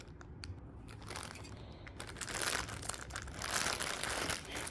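Plastic packaging of tailoring accessories such as bead laces being opened, giving a steady, close run of crinkling and crackling that grows louder and denser toward the end, with no talk over it.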